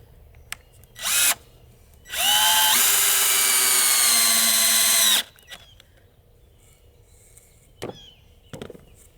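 A power drill drives a 2.5-inch screw into wood in one loud, steady whine lasting about three seconds, preceded by a brief short burst, with a few faint knocks afterward.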